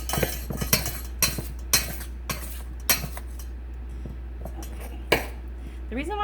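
Sharp metallic clinks and scrapes of knives cutting butter into flour for a pie crust in a bowl, irregular strokes with several distinct taps and softer mixing between them.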